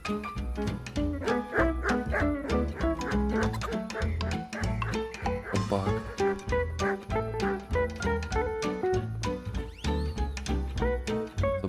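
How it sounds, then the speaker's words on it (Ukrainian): Several dogs bark and yip repeatedly in a medieval-themed video game, the rapid loud barks layered over music and game sound without a break. "собаки палять, я понял"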